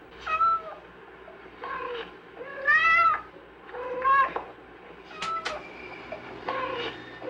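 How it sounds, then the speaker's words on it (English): A domestic cat calls out in a run of separate meows, about six or seven distinct cries of varying pitch and length, fairly close and clear against a quiet background. "cats produce about 15 basic calls"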